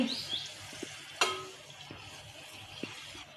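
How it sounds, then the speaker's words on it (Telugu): A small piece of chapati dough sizzles quietly in hot oil being tested for frying jaggery puris, a soft steady fizz with a few faint clicks and one brief sharp tap, with no talking. "ఇది ఆయిల్ వేడిగా ఉందో లేదో చిన్నది వేసి చూస్తున్నాను"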